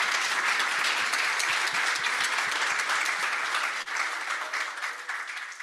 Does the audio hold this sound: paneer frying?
no